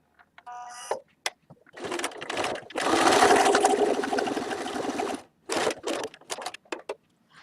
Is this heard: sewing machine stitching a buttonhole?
yes